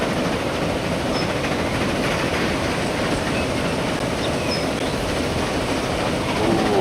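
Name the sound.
train arriving and passing in video game Transport Fever 2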